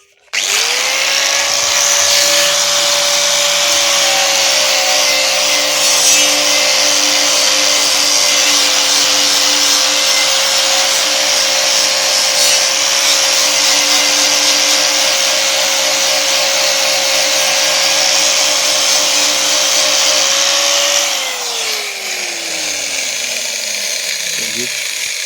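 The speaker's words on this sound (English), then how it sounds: "It's called a poly disc, and stick them in the grinder." An angle grinder fitted with a poly disc sands down metal on a Bandit 1200 motorcycle build, a loud, steady whine running unbroken for about twenty seconds before spinning down near the end.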